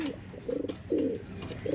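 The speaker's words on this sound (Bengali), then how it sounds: "আর এটা হচ্ছে মাদি পায়রা" A female pigeon at a pigeon loft coos in soft, low, rounded pulses, three or four close repeated notes over a steady background hiss.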